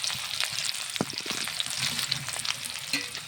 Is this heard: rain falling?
no